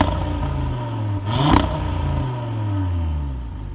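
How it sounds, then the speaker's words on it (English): A 2025 Audi RS3 with the optional Sport Exhaust revs sharply once to a loud peak, then drops back to a throaty idle and builds again, heard close and alone. "we should hear how that fire-breathing dragon sounds with the Sport Exhaust system that we have optioned out"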